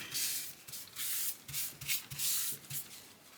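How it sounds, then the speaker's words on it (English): A burnisher is rubbed hard over freshly glued leather, giving quiet close back-and-forth scraping strokes in an uneven rhythm with short pauses between them. "Find my burnisher, burnish that down, and get up that extra glue."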